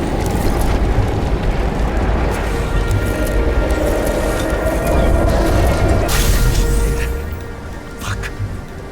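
A loud, sustained explosive roar and rumble fills most of the span, breaking into a sharp crash before dying down to a lower rumble.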